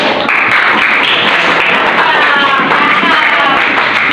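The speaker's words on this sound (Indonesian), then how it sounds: "Tepuk tangan." A class in an Islamic religious education lesson claps hands after a recited rhyme, loud, dense clapping with some tonal voices or cheering mixed in near the middle.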